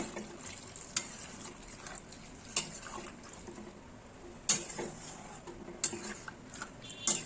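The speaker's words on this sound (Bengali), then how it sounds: "এখানে আমি গরম জলটা দিয়ে দিচ্ছি।" Hot water poured into a pan of Bengali red chicken curry with potatoes, a steady liquid wash with a few sharp splashes and clinks, close and fairly quiet, with no talking.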